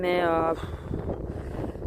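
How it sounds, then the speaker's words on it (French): Outdoor wind buffets a microphone on a holiday outing, a low rumbling roar with uneven gusts, heard under a voice that speaks briefly at the start. "Alors excusez-moi, il y a du vent."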